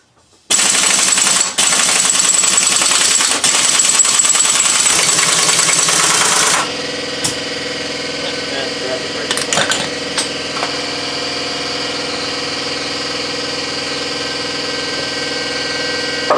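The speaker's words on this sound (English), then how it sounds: "I didn't take the wheel off yet in case my impact's not strong enough to get the axle nut off" An impact wrench on a 36 mm axle nut of a GM truck hammers loudly in one continuous six-second burst, then stops and leaves a steady mechanical hum with a few scattered knocks.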